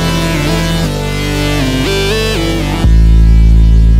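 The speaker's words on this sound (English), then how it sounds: "A triangle wave could also be used to make some unique lead sounds." Synth triangle wave lead playing a gliding melodic line with pitch bends over sustained low notes, then ending in a heavy deep bass hit, loud and alone with no talking.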